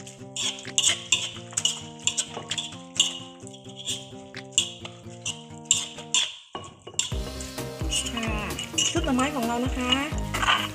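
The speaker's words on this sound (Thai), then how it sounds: "เสร็จแล้วเราก็จะคลุกเคล้านะคะ ให้ส่วนผสมมันเข้ากันเลยค่ะ" Thai bamboo shoot salad with toasted rice, lime and sliced shallots is tossed and mixed in a bowl, with repeated soft clinks and stirring scrapes under a voice and tonal background sound.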